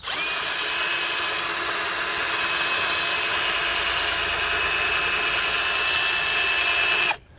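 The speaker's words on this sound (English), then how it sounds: "Because this drill, it's not gonna like this for very long." A power drill driving a boat propeller whines steadily under heavy load for several seconds, its pitch shifting slightly, then cuts off abruptly near the end.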